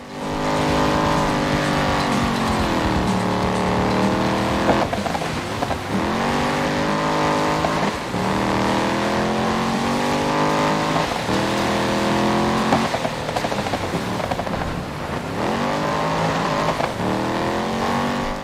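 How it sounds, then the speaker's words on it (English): A loud rallycross car engine in the video game DiRT 5 roars continuously, revving up through the gears with repeated shifts, its pitch climbing and dropping in steady cycles. "I'm going to let you guys listen to the game sound, because this car sounds very meaty"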